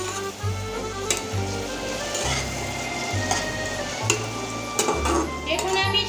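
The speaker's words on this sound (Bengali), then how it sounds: "এবার আমি নেড়ে নেব।" Sour fruit jelly cooking in a pan, stirred with a utensil that clicks and scrapes in a loose rhythm over a low bubbling sizzle and a steady low hum, close by.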